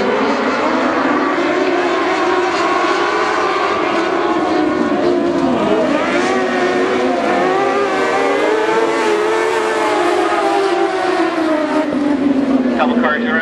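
Several dwarf cars roar around Barona Speedway together in a heat race, engines droning and shifting pitch as they pass, loud and continuous over a crowd-like background.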